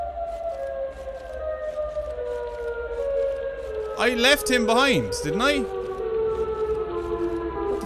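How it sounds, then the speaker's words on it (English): A wailing siren from the Siren Head horror video game sounds continuously throughout, its pitch wavering and swelling louder midway as distorted warbling tones rise over it, while someone talks anxiously on top. "Why is the siren getting loud again?"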